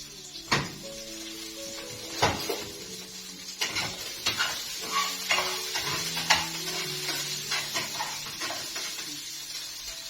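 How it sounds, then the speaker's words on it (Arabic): Fat sizzles and spits in a hot pan while hawawshi is being made at home, a steady frying hiss broken by spoon scrapes and clinks against the pan, close and fairly loud, with tonal background sounds underneath. "طبعا اكيد سامعين الدهن وعمال تشتش كده"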